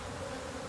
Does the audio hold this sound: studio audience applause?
no